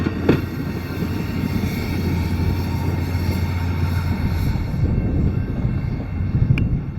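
At night an Amtrak train led by P32-8BWH Dash 8 locomotive 519 rolls steadily past on its way to Beech Grove. Its cars, including a double-decker Surfliner car from California, make a continuous loud rumble and hiss, with a short metallic squeal near the end.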